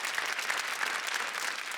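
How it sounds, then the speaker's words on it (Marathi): Steady applause from a TV studio audience for a performer, dense and continuous clapping at moderate distance with no voices over it. "एकदा जोरदार टाळ्या होऊन जाऊ दे अमृतासाठी"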